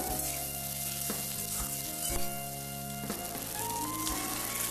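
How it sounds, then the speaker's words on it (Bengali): Chopped capsicum and onion fry on a high flame with a steady, dense sizzle, broken by a few sharp stirring knocks against the pan. "হাই ফ্লেমে আমি ক্যাপসিকাম পেঁয়াজগুলো ভেজে নিচ্ছি।"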